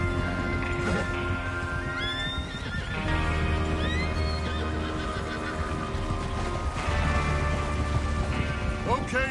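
Horses in Red Dead Redemption 2 whinny and neigh repeatedly over the clip-clop of hooves as a group rides out together, with faint voices and ambient noise underneath.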